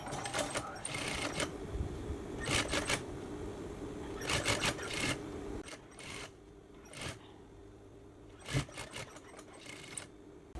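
A sewing machine stitches a jeans waistband in short bursts of rapid whirring, several starts and stops spread through the clip, with quieter handling rustles in the pauses.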